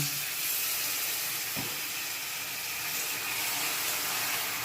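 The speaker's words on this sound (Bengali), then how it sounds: "সাধ্য মতো জল দিচ্ছি" Water poured into a hot pan while cooking a stuffed ash gourd dish gives off a steady, soft hiss of steam, with one brief dull knock partway through and no talking.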